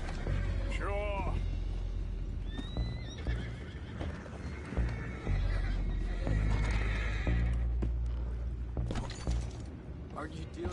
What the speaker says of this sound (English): Horses down below.